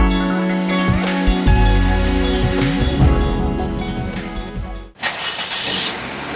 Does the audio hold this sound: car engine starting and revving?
yes